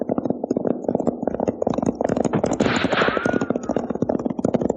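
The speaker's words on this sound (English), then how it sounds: "That sounds like a regular gun battle." A gun battle in a 1949 western film, with dense rapid gunfire cracking in quick continuous bursts, loud and close throughout.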